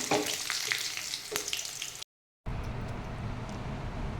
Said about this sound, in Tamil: அதுக்குள்ளே நம்ம இந்த பூண்டை வணக்கி நல்லா நல்லா நல்லெண்ணெயில் வணக்கி